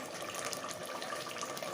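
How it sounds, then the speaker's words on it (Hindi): Water poured into a pot of fried potatoes and spices for a potato curry, a steady close splashing gush that runs unbroken throughout, with no talking. "तो अब मैं इसके अंदर इतना पानी डालूँगी कि"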